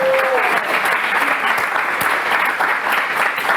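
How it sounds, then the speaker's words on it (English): Loud, close audience applause for a guest at a live event, dense continuous clapping with a few cheers mixed in, holding steady throughout. "Let's give Heather a big round of applause."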